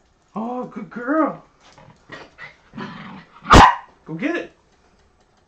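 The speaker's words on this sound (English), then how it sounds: "Don't bark at me." A dog barks several times in short bursts close by, with growling between, while a person talks to it over the barking in a home kitchen.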